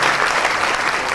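An audience at a startup pitch bootcamp in Dhaka applauds in a dense, steady roar of many hands, brief and loud, with no pause or fade.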